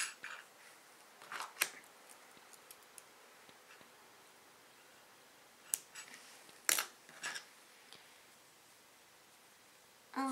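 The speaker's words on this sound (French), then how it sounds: "je vais couper le fil de derrière qui me gêne" Scissors snip crocheted yarn while a five-pointed star blanket is being made, a few quiet close-up cuts and clicks scattered through near silence.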